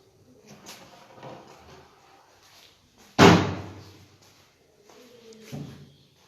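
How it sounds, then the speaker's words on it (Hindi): A household door is swung shut in a home beside the kitchen, one loud close slam standing out sharply against quieter background movement, followed by a softer bump. "दरवाजा भी बंद कर देती हूँ।"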